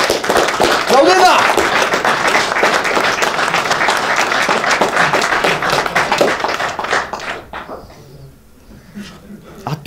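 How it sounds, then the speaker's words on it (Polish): Audience applause and rhythmic clapping at a tech talk on Oracle RAC, loud and sustained for about seven seconds with a few shouts mixed in, then fading into quieter talk. "prosiłbym was o lekkie, no, poskandowanie, lekkie brawa dla Klaudyny, żeby się tu mogła pojawić."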